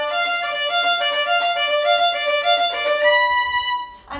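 Tritone double stops on a violin from Bohm's Perpetual Motion in Suzuki Volume 4 come as a rhythmic string of short bowed pairs, clear and close, ending on a held pair before a brief noise at the end.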